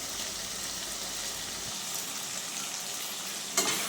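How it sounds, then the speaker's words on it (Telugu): Masala being stirred into Andhra-style chicken pulusu curry in a pan gives a steady, dense sizzle throughout, with a brief louder scrape near the end, close and unbroken, with no talking. "ఇలా మసాలా అంతా ఒకసారి బాగా కలుపుకోవాలి."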